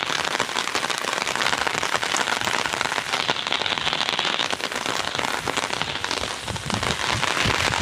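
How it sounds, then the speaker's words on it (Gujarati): Steady heavy rain pours onto a rooftop terrace, a dense continuous hiss with scattered sharp drop impacts throughout, loud and close with no voices. "કેવો વરસાદ આવે જો બધું લીલું લીલું થઈ ગયું"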